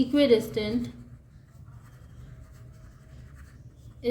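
Pen or pencil scratches faintly across paper as coordinate geometry working is written out, with someone speaking over the first second before the quiet writing continues on its own.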